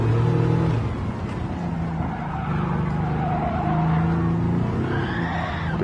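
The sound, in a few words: race car engine upshifting early in Gran Turismo 7 video game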